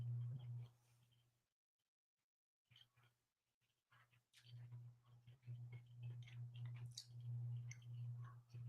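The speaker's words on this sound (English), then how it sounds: "You guys hear me chewing?" Someone chews food close to the microphone, with soft, moist, rhythmic mouth sounds that stop briefly in a quiet pause and then resume, faint overall and with no talking.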